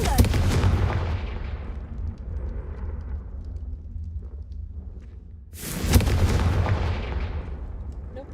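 Two heavy, booming blasts from the Confringo spell in Hogwarts Legacy, one at the start and another near the end, each loud and close with a long rumbling decay between them.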